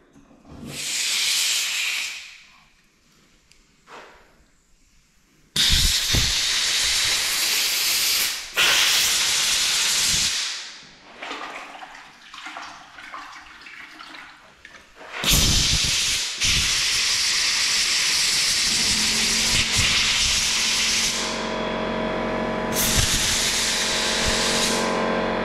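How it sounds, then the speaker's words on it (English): Loud bursts of compressed air hiss from an air hose while cleaning a Graco Truecoat 360 spray gun, several long blasts separated by pauses, close and harsh with a steady rushing tone. "Now I have an air hose here."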